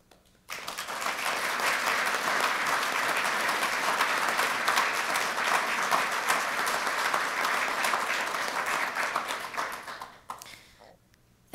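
Sustained audience applause at the McCain Institute Award for Courage ceremony, a dense, steady wash of clapping from a large crowd that holds for about ten seconds before tapering off.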